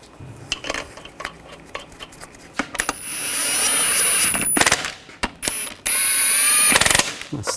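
Lug nuts being started on a 2015-2020 Cadillac Escalade front wheel: light metallic clinks and rattles, then two sustained whirring, ratcheting bursts of a few seconds each, loud and close, with no talking.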